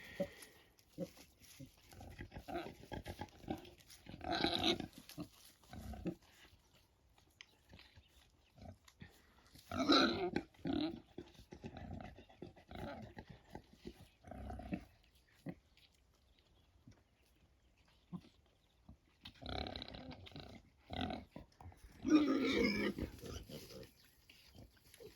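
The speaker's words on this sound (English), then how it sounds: "I just love watching the pigs out grazing." Pigs grazing outdoors on a homestead grunt in scattered bursts, fairly close, with quiet gaps between snorting, rooting noises.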